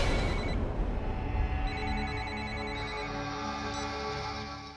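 A telephone rings with a call, its bright electronic ringtone sounding in repeated bursts, clear and fairly close, with no one talking.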